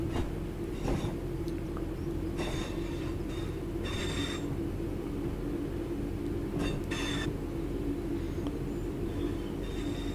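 Train in Train Sim World 4 rolling slowly at about 10 mph through the sharply curved Dinting Station, a steady low rumble of wheels and motor with brief higher squeals and clicks breaking through at intervals, no talk.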